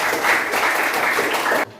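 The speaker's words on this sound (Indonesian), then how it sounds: "Silakan dulu nunggu tepuk tangan buat Berta." A class applauds Berta during an economics lesson at school. The clapping is dense and close, holds steady for under two seconds, then cuts off abruptly.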